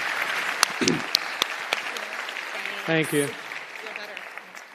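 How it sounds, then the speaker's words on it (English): A crowd at a startup launch festival stage applauds continuously throughout, steady clapping filling the room while a voice briefly says thanks over it. "Big round of applause."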